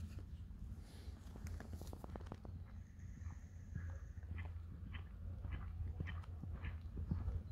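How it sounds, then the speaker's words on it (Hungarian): A horse trots with a steady clip-clop of hooves over continuous rumbling background noise, joined by a faint high whine partway through, with no talking. "és trappolunk tovább"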